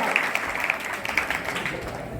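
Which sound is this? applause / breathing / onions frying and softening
applause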